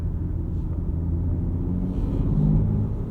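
A 2025 BMW M2 with the S58 engine and 6-speed manual running, a deep steady engine rumble heard from inside the cabin, no voices.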